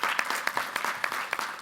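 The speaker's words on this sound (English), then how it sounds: "So I'd just like to give a wee quick round of applause for Rich Ensor" A small crowd applauds at a basketball event announcement in Belfast, a steady patter of hand claps with individual sharp claps standing out, fairly close and continuous, with no talk.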